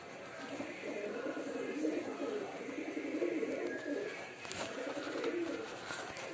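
A young pigeon dove, freshly moulted with cream-coloured plumage, coos softly in a steady low murmur through most of the stretch, with faint background noise and occasional rustling.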